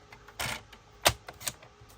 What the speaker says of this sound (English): I'm going to trim this one at 4 inches